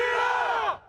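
A capacity crowd at a military weapons-crew competition lets out a loud, massed roar of yelling voices that cuts off abruptly after about a second.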